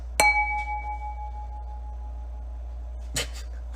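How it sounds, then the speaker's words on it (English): A wine glass is struck and rings with a clear sustained tone that fades over more than a second, followed by a second light clink near the end in a quiet room. "Sounds That Make Zach's ADHD Brain Happy, we have Wine Glass"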